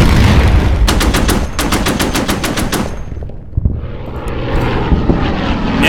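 Rapid automatic fire from an anti-aircraft gun in the wargame Order of Battle, loud bursts of evenly spaced shots over a droning aircraft engine, then the fire stops and the engine and rumble carry on alone.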